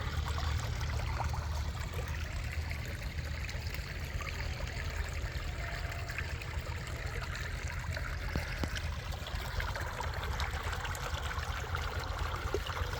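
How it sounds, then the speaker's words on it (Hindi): Irrigation water runs from a raised channel down into a lower sorghum field, a continuous rushing, gurgling flow with a low rumble beneath, steady and close for the whole stretch with no voices. "इसीलिए पानी की आवाज़ आ रही है, पानी शोर कर रहा है"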